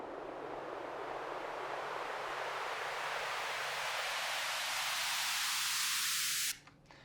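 A white noise riser builds in a song toward the drop, a hissing wash that climbs steadily brighter and louder for about six and a half seconds, then cuts off abruptly into a faint tail.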